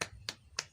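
Rhythmic claps for the tepuk atin chant in a children's lesson on Surah At-Tin, heard as three crisp, sharp hits at an even quick pace, close and fairly quiet with no voices.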